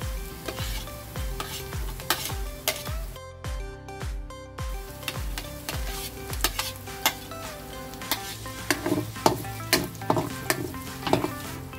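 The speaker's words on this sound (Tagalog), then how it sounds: "Pag nag-aroma na yung sibuyas, ilalagay na natin ang bawang." Garlic and onion frying in a pan sizzle beneath prominent plucked background music, with occasional utensil clinks against the pan.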